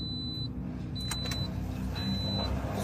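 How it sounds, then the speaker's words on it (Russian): A Toyota Prius 30 hybrid whose traction battery was replaced starts up with no engine roar. A low steady hum runs under a few high electronic beeps and chimes, close by. "Все, машина завелась."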